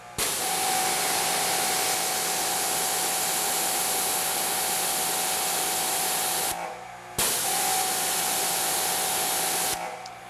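Simpson Clean Machine electric pressure washer spraying, a loud, steady hiss with a motor whine, cut off briefly twice before starting again.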